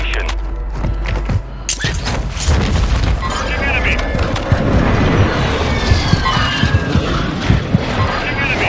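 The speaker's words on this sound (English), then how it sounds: "Hostile airstrike near your location." An airstrike in Warzone 2 with heavy booming explosions and rumbling debris that keep crashing for several seconds, mixed with gunfire-like bursts and a game voice announcing the threat.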